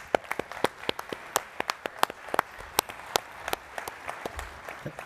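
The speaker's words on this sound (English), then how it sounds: "I'd like everyone to please give our panelists another round of applause." Sparse, scattered applause from a small audience at a military family-support readiness panel, individual claps spaced irregularly and sounding fairly quiet and thin, with no talking.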